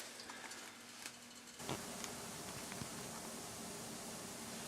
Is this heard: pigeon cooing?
no